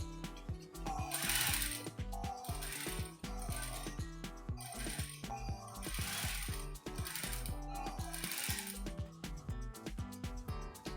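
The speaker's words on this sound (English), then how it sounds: "I'm just going to top stitch on it now" A sewing machine top stitching a corset top, running in a steady mechanical whir with rhythmic needle clatter, pausing briefly between loud stitching bursts, close and alone without talk.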